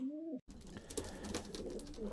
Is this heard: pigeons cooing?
yes